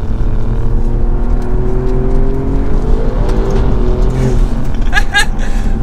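A 2024 Alfa Romeo Giulia Quadrifoglio engine drones and climbs in pitch as it accelerates on a mountain road, then a quick series of sharp exhaust pops crackles near the end, with talking underneath.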